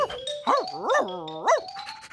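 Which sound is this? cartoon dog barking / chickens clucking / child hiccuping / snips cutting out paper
cartoon dog barking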